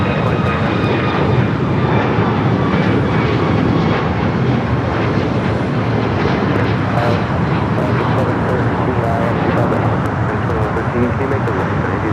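A Boeing 777-300ER airliner taxiing at LAX, its steady broadband engine roar holding loud and continuous throughout, with a person talking over it.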